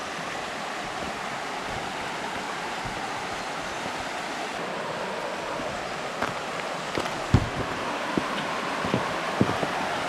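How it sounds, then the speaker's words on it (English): A small waterfall on a creek at Short Springs State Natural Area in Tennessee gives a steady wash of rushing water, with a few faint knocks and footfalls nearby. "do you see that little waterfall?"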